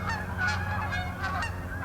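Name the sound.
geese honking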